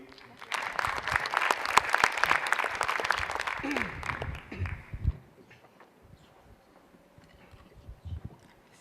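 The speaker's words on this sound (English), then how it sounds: "So let's give a big applause to Professor." Conference audience at a plenary session applauding a professor, dense clapping building for several seconds before fading out, followed by scattered quiet shuffling.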